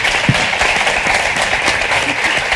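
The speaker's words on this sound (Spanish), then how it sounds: "Un fuerte aplauso para ellos, por favor." A crowd at an art-and-science event in a Madrid venue claps for scientists and artists, producing a dense, even roar of applause that holds steady and fairly loud throughout.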